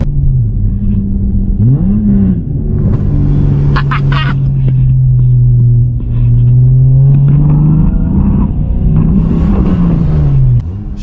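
A BMW E30 with a loud straight-piped exhaust drives along, its engine a deep, steady droning roar close by that rises and dips slightly with throttle throughout.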